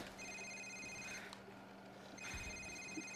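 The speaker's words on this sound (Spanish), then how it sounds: "Señor, este es su teléfono móvil." A mobile phone rings in the Call of Duty 4: Modern Warfare video game, a faint electronic ring heard in two bursts separated by a short pause, with no talking.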